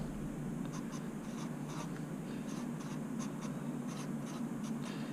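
A pen writing out an example by hand, with soft repeated scratching strokes in short clusters over a steady background hiss, close and fairly quiet.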